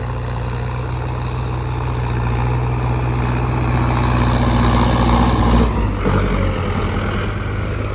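A Mahindra Arjun Novo 605 DI tractor engine working a field, a loud, close, low diesel drone that holds steady, then dips and shifts briefly before settling back into its even rumble.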